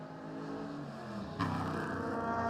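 A Touring Car Masters car crosses the line on a wet circuit at Shell V-Power Motorsport Park. Its engine roars steadily throughout and grows louder and brighter about halfway through as it passes close by.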